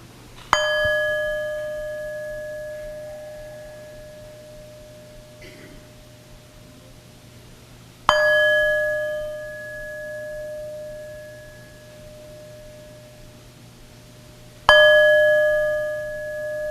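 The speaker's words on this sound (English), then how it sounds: "prepare ourselves in body and mind and spirit for worship by hearing the sound of the bell" Worship bell struck three times at long intervals, each clear ringing tone lingering and fading slowly over a quiet room hum.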